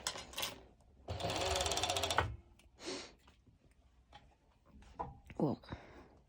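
A sewing machine runs in one quick burst of about a second, stitching lycra fabric as elastic is fed in. Quieter rustles and soft handling noises come before and after it.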